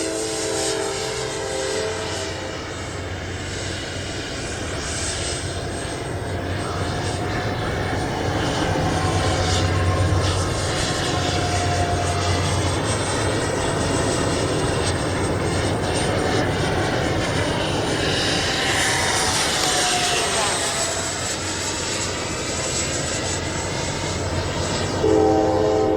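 A twin 64mm electric ducted-fan RC MiG-29 jet flies after takeoff in low light, giving a steady, loud whining roar that holds for the whole stretch and shifts a little in pitch as it passes, with no voices.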